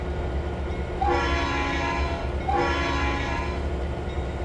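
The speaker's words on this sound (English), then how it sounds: "That's a different sound on the horn." Two long, loud horn blasts from a road train in the Trainz 2022 railroad simulator, with a brief gap between them, over a low rumbling background.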